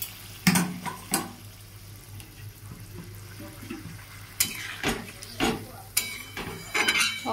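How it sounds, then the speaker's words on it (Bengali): Hot water poured into a pan of potato and pointed gourd curry, heard as bursts of splashing and sizzling with a few clinks of utensils, close by in a home kitchen. "জল গরমটা নিয়ে জাস্ট দিয়ে দিলাম।"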